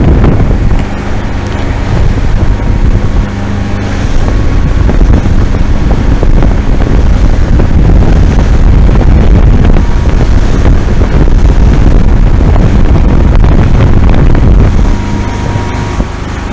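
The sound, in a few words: fishing boat riding across Lake Erie in wind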